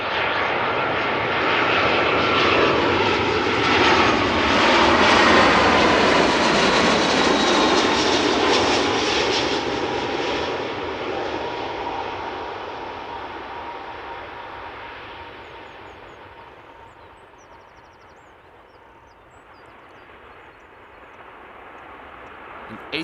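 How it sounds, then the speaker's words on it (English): An 18-year-old Airbus A319 airliner touches down at Amsterdam Schiphol with a loud jet roar that peaks early and then gradually fades as it rolls away, leaving a quieter rumble near the end. "An 18-year-old Airbus A319 just touching down"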